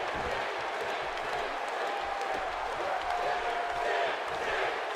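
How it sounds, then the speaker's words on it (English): Crowd cheering fills a WWE 2K18 wrestling arena during a Sting match, a steady, dense roar of many voices at a moderate distance, continuous and unbroken throughout. "This crowd keeps on cheering Sting on"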